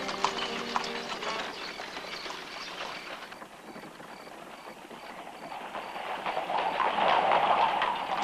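Hooves of a horse-drawn carriage clip-clop along a street in Luxor, Egypt, in a steady close rhythm over busy street ambience. The sound fades slightly midway and then builds again as the carriage comes nearer.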